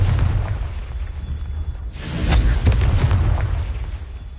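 A Confringo spell blast bursts with a booming explosion in the Hogwarts Legacy video game, a loud rumbling impact swelling midway and decaying over a low roar, with no talking.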